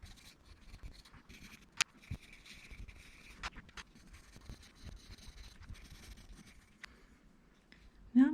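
A coloured pencil moves over paper in an art drawing of birds, giving a faint, continuous soft scratching with light taps and strokes, close and quiet.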